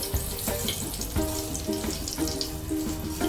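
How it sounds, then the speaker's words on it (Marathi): Curry leaves sizzle in two spoonfuls of hot oil for a garlic fenugreek dish, a steady close crackle with repeated sharper pops and spits throughout, no voices. "आता ते तेल गरम झालेलं आहे। त्यामध्ये कढीपत्ता जाईल"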